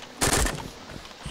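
A short, loud burst of rapid gunfire sounds in the DayZ video game, followed by quieter rumbling and a faint later pop.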